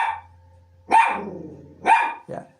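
A dog barking while out on a walk, two or three sharp close barks spaced about a second apart, with a faint rumble between them and no talk.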